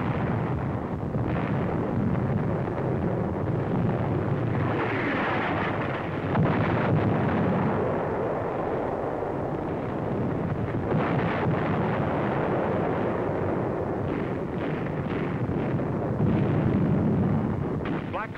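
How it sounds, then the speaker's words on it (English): An artillery shell strikes an enemy 88mm gun position in the North African desert in 1943, a sustained loud roar of explosions and rumbling with wind buffeting the microphone, several heavier bursts rising throughout. "A direct hit on an enemy 88mm gun position."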